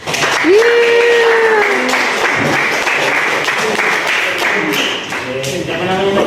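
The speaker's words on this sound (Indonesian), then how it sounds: "Tepuk tangan dulu sama kakaknya." A crowd claps in a steady burst of applause lasting several seconds, with a voice speaking over it at the start and again near the end.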